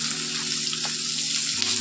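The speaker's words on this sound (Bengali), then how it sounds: "এই ভাজা হয়ে গেলে এবার দিয়ে দেবো আমি পেঁয়াজগুলো পেঁয়াজগুলো কিন্তু এর সাথে ভেজে নেবো" Onions dropped into hot oil with garlic already frying, producing a steady, close sizzle that holds evenly throughout, with a faint clink partway through.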